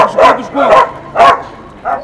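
Dogs bark at a municipal dog shelter in Greece: four loud, close barks spaced roughly half a second apart, over a steady background of kennel noise.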